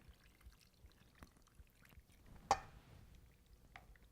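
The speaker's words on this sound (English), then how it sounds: "we're going to add all this lemon into the ceviche" Lemon juice poured into a bowl of fish ceviche: a faint, quiet liquid trickle with one short, brighter splash partway through.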